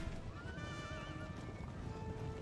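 Horses in the Napoleon: Total War battle game neigh and whinny over galloping hooves, with a prominent wavering whinny amid a busy rumble of battle noise.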